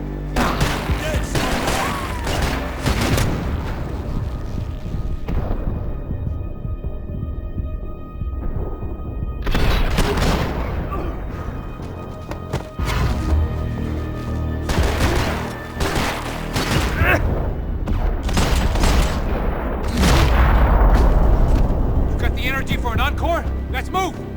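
Bursts of gunfire and heavy firefights in the video game Max Payne 3, loud rattling volleys broken by brief lulls, with in-game voices shouting at times over the combat.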